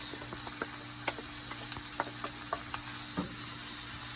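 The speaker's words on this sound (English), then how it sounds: "We're gonna go in with our ground beef now." Ground beef sizzles and crackles steadily in a hot pan, with a run of sharp little pops and ticks over the constant frying hiss, fairly close and alone.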